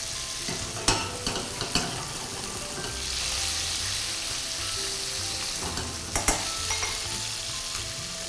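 Herbs infuse in hot oil in a pan over low heat, giving a steady, close sizzle with a few scraping stirs along the way, and no talking.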